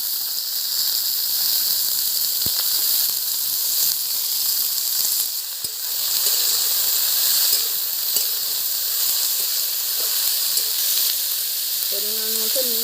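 Hot oil sizzles steadily as beans, eggplant and potato are added to fried onions in a pan, a loud continuous hiss with small crackles throughout and a brief voice near the end.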